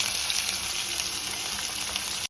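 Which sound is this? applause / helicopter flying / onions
onions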